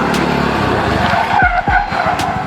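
A car passes close on a road with a loud, sustained engine roar and swooping pitch sweeps as it goes by, filling the whole stretch with steady traffic noise.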